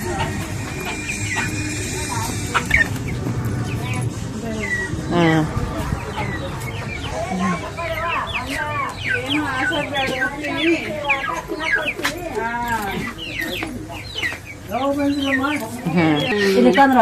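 Several chickens cluck and squawk close by in quick, irregular bursts, with some talking mixed in.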